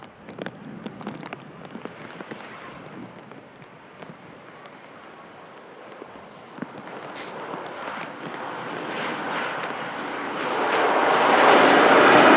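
Virgin Atlantic Airbus A350-1000 touching down at Manchester Airport after a flight from Orlando, its jet roar growing steadily louder and broader as it nears, with wind buffeting throughout.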